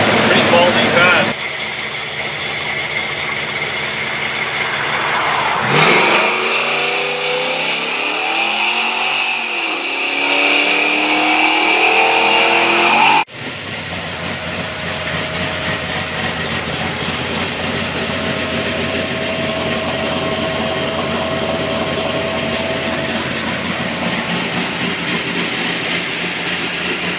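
A 1962 Plymouth Savoy wagon with a 440 Magnum V8 is cranked and fired up, then held at a loud, steady idle with rising revs. A sharp break midway is followed by a continuous engine drone, with some talk in the background.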